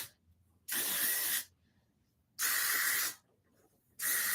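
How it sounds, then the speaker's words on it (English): Amika Top Gloss hair spray is released in three sharp, even hissing bursts, each lasting under a second with quiet gaps between them, heard close and alone. "I'm gonna go ahead and spray my Amika top gloss"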